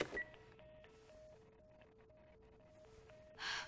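A telephone is dialed in The Last of Us video game: a series of about ten quiet, evenly spaced dial tones, each a short beep, with soft clicks around them and a louder burst at the end.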